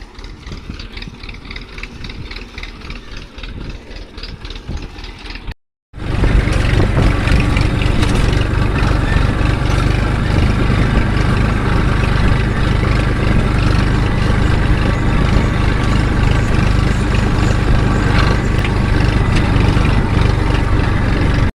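A Massey Ferguson 1035 tractor pulls a 13-tine seed drill across a field, its diesel engine droning loud and steady at close range; a quieter stretch breaks off abruptly and the heavy rumble then carries on unbroken.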